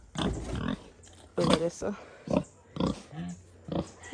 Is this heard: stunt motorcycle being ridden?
no